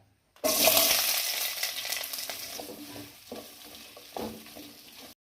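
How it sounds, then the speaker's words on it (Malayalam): Two cut onions dropped into hot oil for a white chickpea curry, a loud sizzle bursting in then settling to a softer frying hiss with a few stirring scrapes, no talk. "എണ്ണ ചൂടായിട്ട് വന്നിട്ടുണ്ട്. ഇനി അതിലേക്ക് 2 സവാള കട്ട് ചെയ്തത് അങ്ങോട്ട് ഇട്ട് കൊടുക്കാം."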